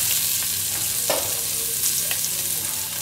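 Onions, celery, zucchini and carrot fry in an oiled pan with a loud, steady broadband sizzle, and occasional stirring scrapes rise above it; nobody speaks.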